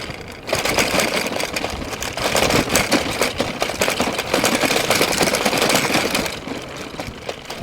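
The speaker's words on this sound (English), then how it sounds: "I believe all that noise is coming from the bike" A bicycle loaded with attached camera gear rattles and clatters continuously over a rough trail, a steady dense buzzing jangle that is loud and close, with no speech.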